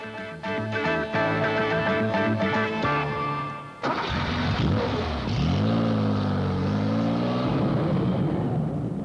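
A 1973 Porsche 911 engine at the factory fires up after a passage of music, then runs loud and close, its pitch climbing and falling as it is revved.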